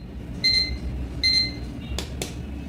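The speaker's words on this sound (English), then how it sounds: "So when the alarm sound is ringing, press the snooze button and it will stop for 6 minutes again at the same time." A digital table alarm clock rings with two clear, bright electronic beep bursts, close and loud, followed by a couple of short sharp clicks.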